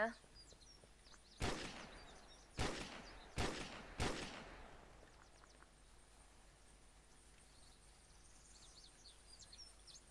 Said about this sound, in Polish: Słyszę w ogóle strzały.